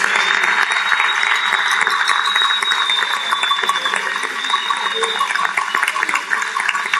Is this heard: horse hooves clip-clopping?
no